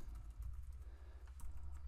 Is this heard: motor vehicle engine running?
no